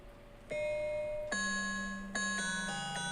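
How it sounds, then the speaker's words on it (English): Xylophone struck one note at a time, with several clear ringing tones stepping down in pitch over about three seconds, each sustaining and overlapping the last, close and bright with no talking. "I have a xylophone."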